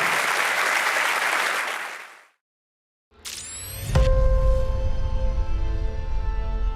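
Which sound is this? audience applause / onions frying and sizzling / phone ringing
audience applause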